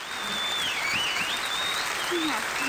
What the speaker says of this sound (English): if you keep applauding, you won't hear my monologue